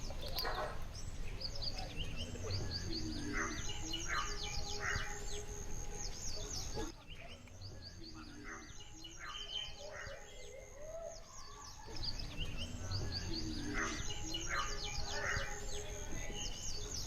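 Birds chirp and call repeatedly at sunrise among the ruins of the Vijayanagara temples at Hampi, layered over a steady insect drone, moderately distant and continuous.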